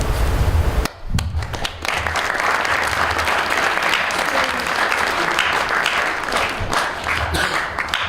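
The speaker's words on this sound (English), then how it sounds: "Let's hold the applause till the end." Sustained audience applause at a high school talk on food and nutrition security, loud and steady clapping filling the room for several seconds after a brief pause near the start.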